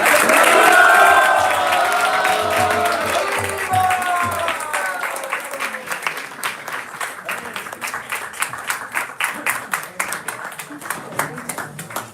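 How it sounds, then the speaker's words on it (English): Huge, rousing audience applause at an ISKCON 60th anniversary festival gathering, loud and sustained clapping with crowd cheering from the start, gradually thinning into scattered individual claps toward the end. "With a huge, rousing applause"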